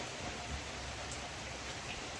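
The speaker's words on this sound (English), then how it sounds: "It's raining, obviously" Steady rain falls in Laguna Niguel, California, making an even, broadband hiss that holds at the same level throughout with no voices.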